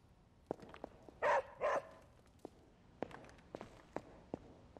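Charlie the dog in the video game Midnight Suns: two short, loud barks stand out among quiet footsteps and soft padding thumps, with light ambient tone beneath.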